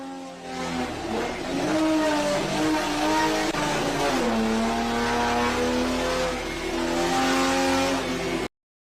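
Car engine during a hard-turning torture test, loud and continuous with rising and falling revs and gear changes, close and clear, with a tire squeal and no talking.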